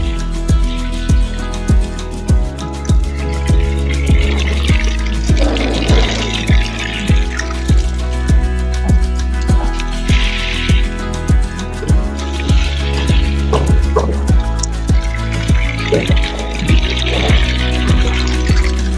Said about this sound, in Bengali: আমি এখন গাছে পানি দিয়ে দেবো